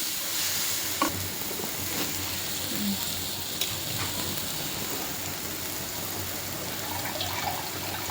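Spices fry in a pan for North Karnataka chakoli, giving a steady, close sizzling hiss with a few faint clicks scattered through it.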